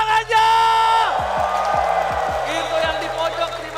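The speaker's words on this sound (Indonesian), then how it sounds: "Istora, mana tepuk tangannya?" An arena crowd at an ESL esports match between ONIC and BRENN cheers loudly, with whoops and a broad roar, while a voice calls out over sweeping tonal effects.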